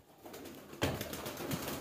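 Pet pigeons nearby: soft cooing with a sudden flutter of wings as they are released to fly, quiet but close, with no talking.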